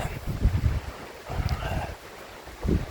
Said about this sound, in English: It's very windy, but the wind's kind of died off a bit